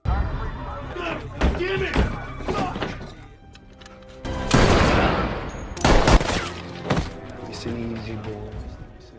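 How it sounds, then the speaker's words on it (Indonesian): Several sharp, loud bangs like gunshots burst out amid thuds and slams, with voices and dramatic sound between them, from an action film. "disusul dengan tembakan dari agen Rossi."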